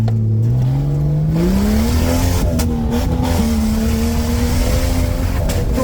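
A car engine revs loudly and continuously at an off-road race track, its pitch climbing in a steady rise before holding a strained, droning note, with tyre scrabble and gritty noise throughout; no talk is heard.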